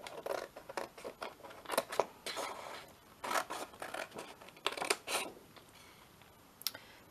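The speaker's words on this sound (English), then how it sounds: "I'm going to cut it just a little bit bigger." Scissors snip through small lace-trimmed paper journal cards in quick, quiet clusters of crisp cuts separated by short pauses, close and faint with no talk.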